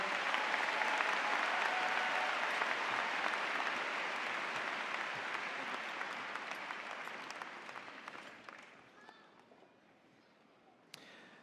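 A high school commencement audience applauds, a large crowd's sustained wash of clapping that holds steady, then gradually thins and tapers off over the last few seconds into scattered claps.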